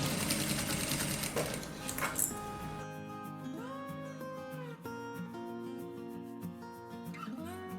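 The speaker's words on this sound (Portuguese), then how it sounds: "vai passar o calcador pro outro lado e vai continuar costurando" Sewing machine stitching fabric for a homemade baby bag, a fast close mechanical whir for the first few seconds, then stopping as background music plays on.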